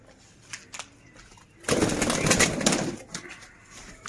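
Sialkoti pigeons at a pigeon-keeping loft in Sialkot, with a sudden loud burst of fluttering wing flaps near the middle, preceded by a few soft scattered sounds.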